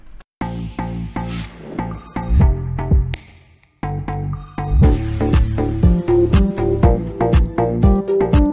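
A melodic school-bell ringtone motif plays over a punchy beat, with a brief dropout midway before the full instrumental returns louder and denser.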